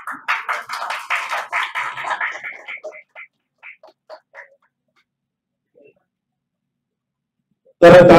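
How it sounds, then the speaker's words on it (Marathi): Loud burst of audience clapping erupts suddenly at the end of a live Marathi mono-act stage performance about Mahatma Jyotiba Phule, following earlier crowd noise that fades into near silence. "तर टाळ्या जोरात झाली."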